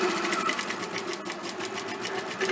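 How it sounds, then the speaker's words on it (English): A sewing machine stitches fabric along a seam with a steady, fast, even rhythm of needle clatter. It is close and runs on its own without talk. "So sewing up along that line"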